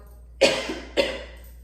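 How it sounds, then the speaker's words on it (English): Two sharp, close coughs from a woman, about half a second apart, each a hard burst trailing into a raspy tail, with quiet room tone around them. "I haven't coughed throughout the whole damn pick a card spread."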